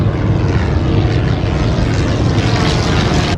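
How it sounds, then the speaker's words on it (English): Propeller airplane engine running near the boarding area of an airport, a loud steady droning roar that holds even throughout with no voices over it. "We're just waiting to board the plane."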